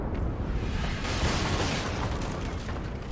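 Enemy ship cannons firing in the video game Pillars of Eternity 2, a dense, rumbling barrage of booms and blasts blending into a continuous roar across the clip, with no talking.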